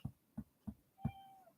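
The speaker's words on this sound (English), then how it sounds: "Don't you meow on me." A house cat meows four times in quick succession, the last call drawn out longer, close but soft in a quiet room.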